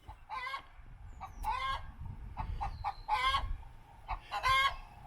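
Garden chickens clucking nearby in short repeated bursts with pauses between, some calls rising into squawks, over faint outdoor background noise.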